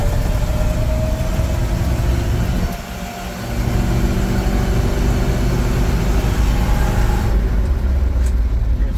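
A 1969 Chevy C50 fire truck engine labors steadily uphill, a loud continuous low rumble with road noise that dips briefly partway through before resuming strongly.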